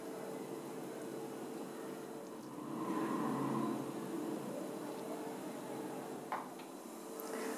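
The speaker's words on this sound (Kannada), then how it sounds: "ಇಡ್ಲಿ ಪಾತ್ರೆಯಲ್ಲಿ ನೀರು ಕುದಿತಾ ಇದೆ." Water boils in an idli steamer pot for tomato rava idli, a steady faint hiss and low bubbling with a brief swell in the middle and a small clink near the end.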